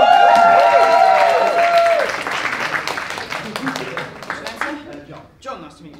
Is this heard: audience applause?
yes